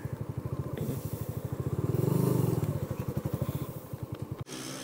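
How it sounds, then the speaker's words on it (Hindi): A motorcycle engine putters in a steady, rhythmic beat close by, swelling briefly as the bike rolls slowly into a parking area, then cuts off with a clunk near the end. "पार्किंग में भी जाते हैं डायरेक्ट, पार्किंग में लगाते हैं बाइक को"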